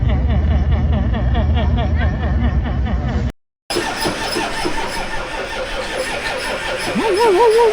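A bus engine cranks and turns over repeatedly on a Mekong road trip, loud and close, cutting out briefly before cranking again with rising whine while voices talk over it.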